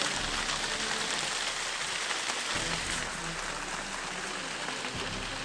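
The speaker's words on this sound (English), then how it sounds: "I love the sound of rain beating down top of me when I can, and I'm not getting wet." Rain beats down on the partly covered roof of a cabin workshop still under construction, a dense, steady hiss and patter that stays loud and even the whole time.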